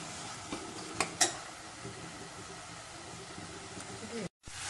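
Tomato cooks in a pan for rassa poha, a steady soft sizzle and frying hiss with a couple of utensil clinks against the pan, close but quiet, briefly cut off near the end.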